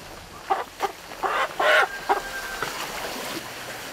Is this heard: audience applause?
no